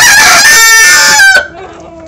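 A Leghorn rooster crows loudly up close, one long strained call that cuts off sharply, followed by a quieter trailing note.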